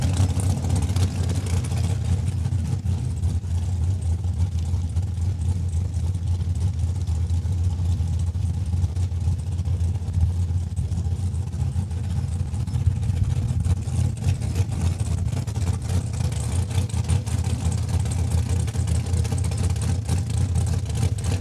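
Drag race car from Regina makes a single pass at Saskatchewan International Raceway after warming its rear tires, a continuous loud engine roar sustained throughout with faint voices beneath.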